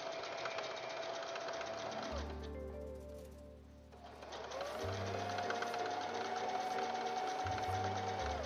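A sewing machine stitches quilt blocks in two long runs, steady and close, with a brief pause in between. A voice speaks quietly under the motor.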